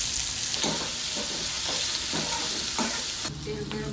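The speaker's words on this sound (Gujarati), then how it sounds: "આ સાઈડ આપણે ચટણીનો વઘાર કરી દઈશું" Hot oil sizzles steadily in a pan while tempering chutney for dosa with mustard seeds, cumin and curry leaves, with a few soft stirring scrapes and splutters repeating under the constant frying hiss.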